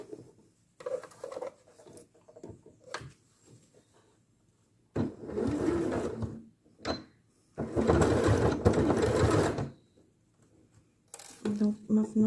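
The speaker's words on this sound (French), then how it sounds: "je me dirige sur la machine à piqueuse plate" A flat-bed sewing machine stitches a shirt cuff in short bursts of rapid, close mechanical chatter separated by pauses, with one longer run near the middle and a voice talking between the runs.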